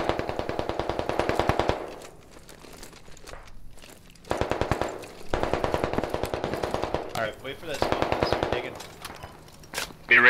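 Machine gun fire in the video game Squad on a Fallujah map: long rapid bursts of automatic fire, loud and close, with short pauses between them and a player's voice speaking briefly over the action.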